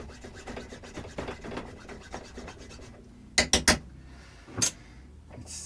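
Sticky plastic on an Epiphone SG 400 guitar is scraped and cut by hand, making rapid rasping strokes, then a pause followed by a few sharp, louder scratches close up.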